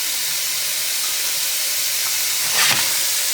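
Food sautés in a pan with a continuous, fairly loud sizzling hiss and a brief stronger burst near the end. No voices are heard.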